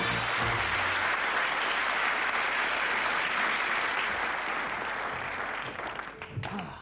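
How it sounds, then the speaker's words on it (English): Studio audience applause on a game show, a steady dense wash of clapping lasting several seconds before tapering off near the end, with a few faint voices surfacing under it. "Let's give it a round of applause."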